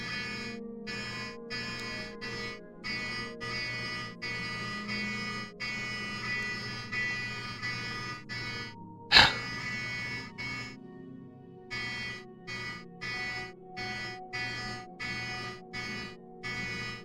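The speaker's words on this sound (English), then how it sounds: "we've gotten, what, 4 of these alarms before? 4 or 5 fire alarms?" A building fire alarm buzzes in a long series of regular harsh pulses, heard from indoors at moderate distance, with one sharp knock midway and a short pause before the pulsing resumes.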